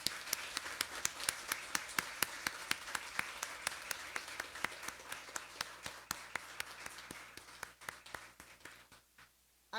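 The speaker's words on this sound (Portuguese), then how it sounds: "Eu gostaria que todos aqui lhe dessem uma salva de palmas" Applause for a late former councillor at a solemn memorial session in a council chamber: sparse, steady hand claps from a modest audience, evenly spaced and fairly close, thinning out toward the end.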